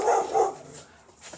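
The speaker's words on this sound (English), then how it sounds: "Sorry about the dog. He's barking at a woman running." A dog barks twice in quick succession at middling distance, with a faint single spoken word and quiet room tone after.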